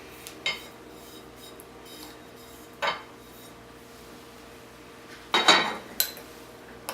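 A spoon or whisk mixes a balsamic vinegar dressing with dried Italian herbs and garlic in a bowl, giving a few scattered clinks and scrapes against a quiet background, with a quicker cluster near the end.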